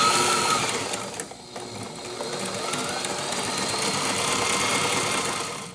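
A sewing machine runs lock stitches along a throw pillow for a sailboat, giving a close, steady mechanical whir with a brief stop and restart early on.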